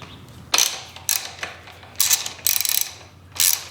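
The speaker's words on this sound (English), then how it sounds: "Go ahead and loosen all of them up." A ratchet wrench loosens the 12mm handlebar clamp nuts on a 2000 Kawasaki KX125, with five or six close, loud bursts of rapid ratcheting clicks separated by brief pauses and no talking.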